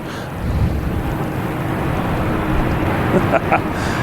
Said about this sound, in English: A220 on the roll